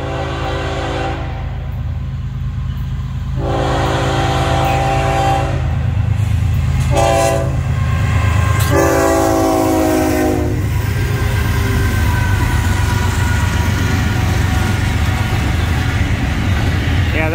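Florida East Coast Railway train FEC 107 sounds a series of loud horn blasts at Milepost 111, Wilder Boulevard, over a heavy rumble that carries on steadily as it rolls past close by.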